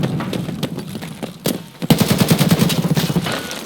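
Gunfire in the shooter Escape From Tarkov: scattered single shots at first, then a loud, rapid automatic burst of evenly spaced cracks rattling on for nearly two seconds, with no talking.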